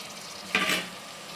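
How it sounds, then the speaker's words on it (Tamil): Chopped tomatoes added to hot oil with sautéed green chillies give a sudden hissing sizzle that swells and fades over half a second, close and fairly quiet. "இப்போ தக்காளி போடுறோம்."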